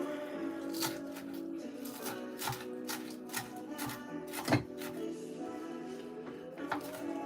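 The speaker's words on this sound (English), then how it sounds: "we're going to cut this up really small" Vegetables being chopped very small for pico de gallo, a close series of irregular knife taps on a cutting board, some in quick bursts, over a faint background hum.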